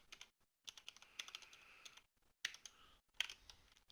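Fingers type on a computer keyboard in quick bursts of light clicks, broken by short pauses and a few sharper keystrokes, heard up close in a quiet room.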